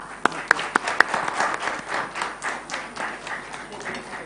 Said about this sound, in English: join me in a round of applause for our esteemed speakers once again